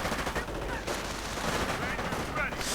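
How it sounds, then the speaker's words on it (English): Dense, continuous video-game gunfire from Thompson submachine guns during a World War II battle, with rapid overlapping bursts and battlefield noise filling the whole stretch. "Charging in with Thompson submachine guns"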